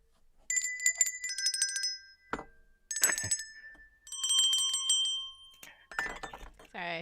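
Bright metallic bells ring in several quick trilling bursts, with a sharp clink between them and a short voice at the end.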